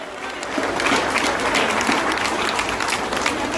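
A crowd at a political rally in Poonch bursts into loud, sustained applause, dense clapping that swells after a moment and continues steadily to the end.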